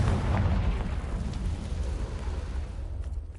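A Confringo fire spell explodes in Hogwarts Legacy with a loud, deep roaring boom that fills the opening and then slowly rumbles and fades over a few seconds.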